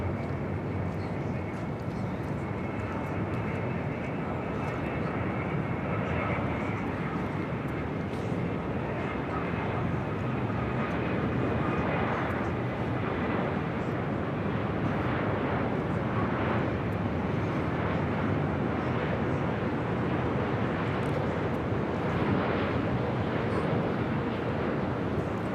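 A Boeing 787-8 Dreamliner's jet engines give a steady, broad roar that stays level throughout, while people talk over it now and then.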